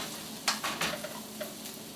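Onions dumped onto oil-coated broccoli in a hot pan give a faint, steady sizzle with a few soft scraping clatters near the start, heard close with no voices.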